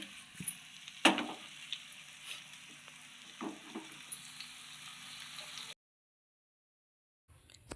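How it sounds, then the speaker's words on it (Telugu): Fish pieces frying in oil, a quiet steady sizzle with a sharp knock and a few soft clatters of a utensil, cutting to silence before resuming briefly at the end. "చేప ముక్కలు ఆయిల్లో వేగాక"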